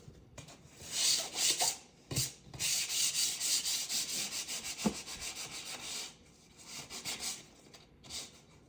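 Sandpaper rubbed back and forth over painted window wood, close and fairly quiet, in uneven bursts of scratchy strokes with short pauses between.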